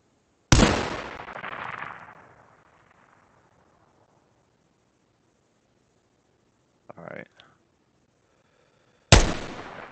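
Gunfire in the tactical shooter Ground Branch: a loud, sharp shot with a long fading echo, a faint brief click or rustle, then another sudden loud blast at the end.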